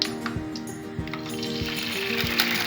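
Oil sizzling in a wok or pan over full heat before a beef stir-fry with rice noodles, a steady crackling hiss with small pops, close and continuous, with no talk over it.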